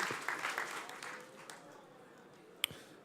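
Audience clapping at a startup pitching stage at Slush 2012 swells briefly at the start, then thins out and fades quickly while a presenter talks over the dwindling applause.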